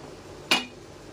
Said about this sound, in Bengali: এইবার ঢাকনাটা খুলে নেব।